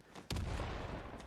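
Grenade blasts and gunfire in Team Fortress 2 during a competitive match, a sharp explosion hitting hard and then giving way to a dense, sustained rumble of combat that stays loud throughout.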